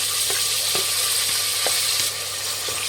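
Chopped onions, freshly washed, hit hot oil in a frying pan for a vegetable biryani. A steady loud sizzle runs throughout with a few soft scraping clicks of stirring, and no voices.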